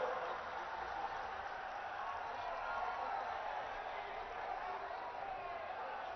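A large crowd at the Kalki Dham temple foundation event in Sambhal claps for the Prime Minister, a steady, even wash of applause and murmuring that holds without a break.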